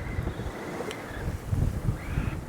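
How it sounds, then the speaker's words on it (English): Sailboat under way on high seas off the South Norwegian coast, with steady wind roar buffeting the microphone and low rushing water and wave wash throughout, fairly close and continuous, with no talking. "I'm just enjoying the sailing now. And we have some high seas."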